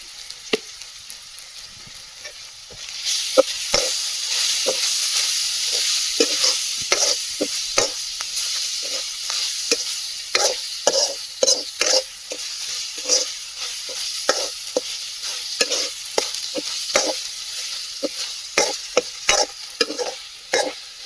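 Tajal greens with chopped green onion and cumin stirred in a pan for a village-style bhaji, with steady close sizzling and repeated sharp scraping strokes of the spoon through the whole stretch.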